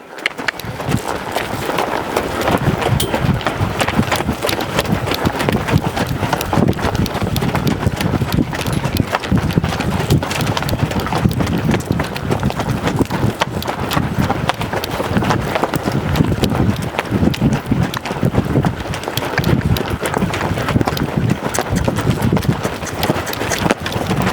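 A young colt being ridden at a walk, trot and lope, its hooves striking the ground in a steady, dense, fairly loud patter that continues without a break, with no talking over it.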